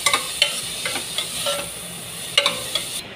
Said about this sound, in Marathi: चिरलेला कांदाही घालायचा आहे आणि छान असा गुलाबी रंगावर छान परतून घ्यायचा आहे.